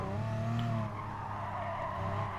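Simulated race car in Gran Turismo Sport sliding through a corner, a steady droning engine tone with tires scrubbing and squealing as the car loses grip, loud and continuous with no talk.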